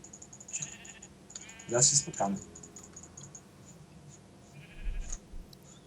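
A Minecraft sheep bleats loudly once with a shorter follow-up, over a faint electronic hum and background game sounds, and a voice speaks briefly.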